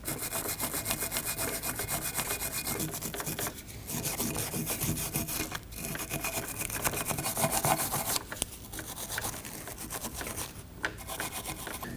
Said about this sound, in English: Now we can clean up the bracket using some brake parts cleaner and a wire brush.